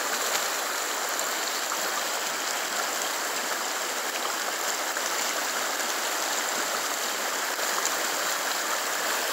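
A swollen creek running well above its normal size, its water rushing in a steady, dense, continuous roar close by, with no voices.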